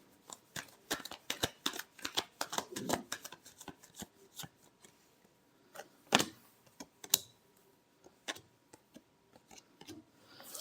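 Tarot cards being shuffled by hand, a quick run of crisp riffles and taps followed by sparser clicks and a few sharper slaps as the deck is squared, close and fairly quiet with no talking.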